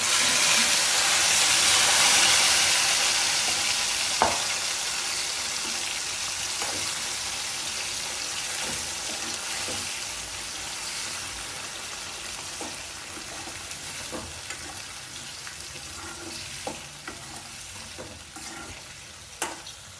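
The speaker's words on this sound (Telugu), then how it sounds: "మనం మష్రూమ్స్ కూడా వేసుకొని కొంచెం వేపాలి" Cashews and mushrooms deep-frying in oil, a loud bright hiss that eases slightly over time, punctuated by scattered sharp pops and spoon clicks, with no speech.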